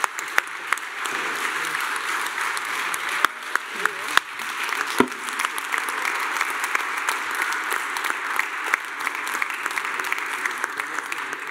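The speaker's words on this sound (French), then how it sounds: "On peut l'applaudir" An audience at an award ceremony for restaurant labels applauds, sustained dense clapping from a large crowd with a few sharper individual claps standing out over the steady roar.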